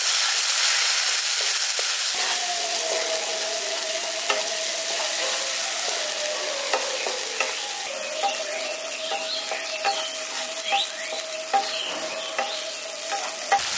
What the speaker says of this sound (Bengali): দেখুন গুঁড়ো মশলাগুলো দিয়ে ভালো করে কষিয়ে নিয়েছি, দেখুন তেলটা ছেড়ে দিয়েছে একদম